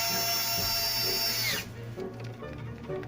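A power drill driver set to low torque whirs loudly up close on an ARRMA Outcast 8s 1:5 scale RC car rebuild, stopping about halfway through, after which faint clicks and workshop noise remain.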